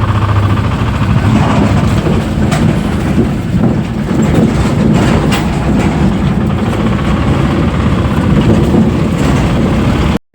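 Vehicle engine running loud and steady while the vehicle is being driven, a continuous low rumble with rattles that ends abruptly.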